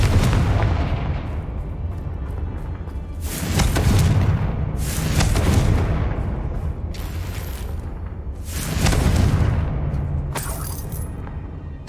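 Confringo blasting spell explosions in Hogwarts Legacy, heard as three loud booming blasts with crackling debris, spaced a few seconds apart over a steady rumbling game background.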